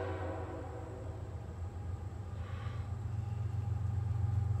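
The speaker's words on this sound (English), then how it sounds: "Well, we'll do it when the train comes" A train rumbles past with a steady, heavy low-end roar that slowly grows louder, a faint high tone running throughout.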